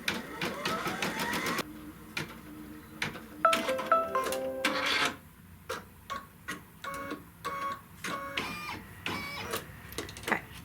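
A computerized embroidery machine stitches a placement line for felt pieces with green thread, giving rapid mechanical whirs and sharp tapping bursts that start and stop in an irregular rhythm, close and clear.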